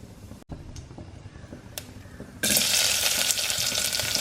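Mustard seeds drop into about two spoonfuls of hot oil in a bowl for sambar, bursting into a loud, crackling sizzle after a few faint clicks, continuing steadily to the end.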